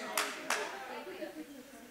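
An audience claps in two brief bursts, sharp and fairly close, which fade quickly into a quiet room while a speaker's voice carries on.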